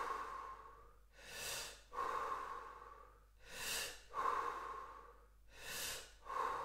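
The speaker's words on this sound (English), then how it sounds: "we're going to breathe 5 times, fully in, with the belly and the chest" Deep full breaths in through belly and chest during a guided breathing session, rhythmic close inhales and exhales, about four long cycles alternating airy rushes with softer breathy releases.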